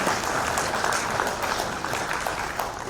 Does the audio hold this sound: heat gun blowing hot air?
no